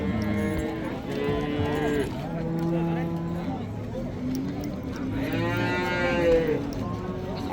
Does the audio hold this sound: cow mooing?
yes